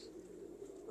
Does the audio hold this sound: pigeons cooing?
yes